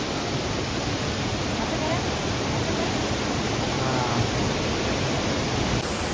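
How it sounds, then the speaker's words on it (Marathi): Steady, loud rush of a high-pressure waterfall on a river in the Konkan region, a dense broadband roar that holds constant throughout, close by. "इकडे हा आपला धबधबा खूप प्रेशरने पाणी आहे"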